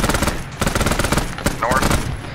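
Rapid bursts of automatic gunfire in an Arma 3 Vietnam War battle, a loud dense volley at the start and further bursts through the clip, with speech mixed in.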